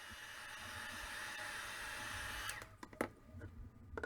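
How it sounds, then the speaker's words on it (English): A heat gun blows a steady broadband hiss while drying thin coats of gesso on a metal embellishment, running continuously for about two and a half seconds before cutting out, followed by a few faint clicks and handling taps. "Dries very quickly with a heat gun."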